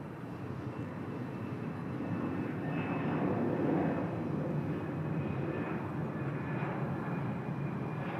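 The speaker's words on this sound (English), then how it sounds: "Using up plenty of runway there, the Thai Air Asia" A Thai AirAsia airliner takes off down the runway, a steady broad engine roar heard from a distance that swells slightly midway and holds, with no talking.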